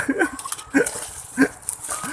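A dog barks several times out in the countryside during eel trapping, short separate yelps spaced roughly half a second apart amid outdoor background noise.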